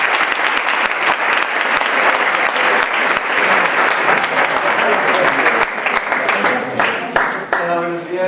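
Sustained audience applause at a conference talk, dense steady clapping from many hands filling the room at full volume before tapering slightly near the end.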